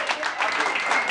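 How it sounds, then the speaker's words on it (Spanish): Audience applause at a presentation event, steady dense clapping from a crowd filling the whole short stretch at an even level. "es un aplauso que nos merecemos todos"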